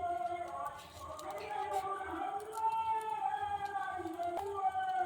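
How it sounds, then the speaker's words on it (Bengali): Devotional kirtan singing drifts in from nearby as a sustained, melodic chant with steady tonal voices, carrying at moderate level through a home kitchen. "কীর্তন হচ্ছে সারাদিন"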